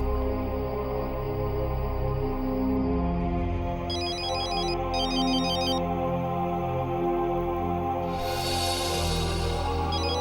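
A phone ringtone plays loudly and steadily for about ten seconds as an incoming call from home, a melodic repeating tune with bright chiming notes partway through.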